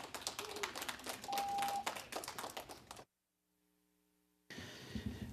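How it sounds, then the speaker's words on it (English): People at a transit authority board meeting applaud young attendees in a steady run of close handclaps for about three seconds, then the sound cuts off abruptly into near silence before faint room noise returns. "Give yourself a round of applause,"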